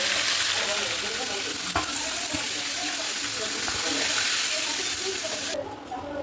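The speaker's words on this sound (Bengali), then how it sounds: "দেখুন আমার তেলটা গরম হয়ে গেছে, এবার মাছটা আমি ভেজে নেব" Fish heads frying in hot oil in a home kitchen, a loud, dense and continuous sizzle and crackle up close that drops away abruptly near the end.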